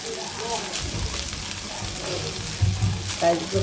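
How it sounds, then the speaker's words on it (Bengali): Boiled rice fries with spices in a pan, a steady soft sizzle with stirring scrapes and clatter, while a voice talks faintly in the background. "দিয়ে সুন্দর করে আমি ভাতগুলোকে ভেজে নেব।"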